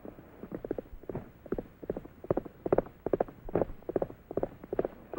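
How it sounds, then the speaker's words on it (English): A horse's hooves clip-clop at a steady walking rhythm, close and clear, with no talk over them, in a 1944 western film. "Trigger is the best horse on the range."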